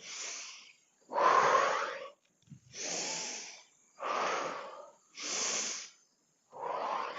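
A person breathes deeply during a slow movement exercise, with six long, close, airy inhales and exhales in a steady rhythm and no talking.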